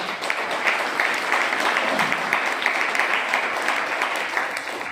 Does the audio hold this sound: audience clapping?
yes